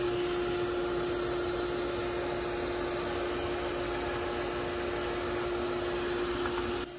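Vacuum cleaner runs with a steady loud whine and roar as it sucks up a massive German yellow jacket nest, cutting off near the end.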